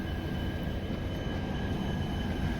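A passenger train on the line to Parasnath runs past Panagarh toward Durgapur, giving a steady, close, loud rumble of wheels on rails with a faint high whine and no voices.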